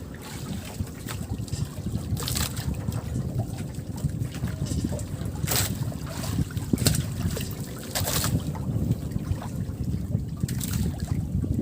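Strong wind buffeting a boat at sea, a continuous low roar with gusty rumble and occasional sharp clatters, with faint voices under the noise.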